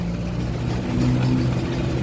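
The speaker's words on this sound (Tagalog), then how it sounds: "Ayan, umandar na. Tahimik na tahimik yan" A rebuilt motorcycle engine idles steadily just after starting, a smooth low hum that stays quiet and even at close range.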